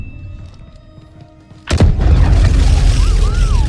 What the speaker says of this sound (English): Hearing explosions and Cal's lightsaber ripping through the metal has such a satisfyingly punchy bass that I feel in my chest